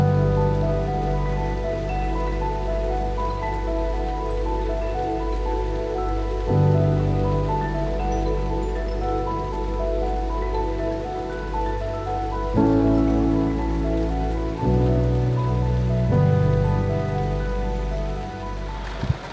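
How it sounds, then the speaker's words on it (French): Heavy rain pours steadily during a mountain hike on the Ligurian coast, a continuous close hiss with shifting intensity that runs for the whole stretch without any talk. "on est sous la flotte"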